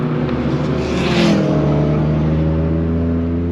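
A Toyota GR Corolla accelerating out of a corner on a twisty mountain road, a loud, steady engine drone heard from inside the car, with a brief rise in the middle and no talk.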